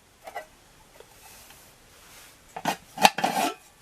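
An aluminium Bundeswehr mess kit pot clinks and scrapes as it is handled for weighing, with a few light taps early on and then a cluster of sharper metallic clanks near the end.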